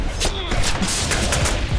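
Gunfire in the PC video game Deadpool, a burst of loud shots in quick succession over a constant game soundscape.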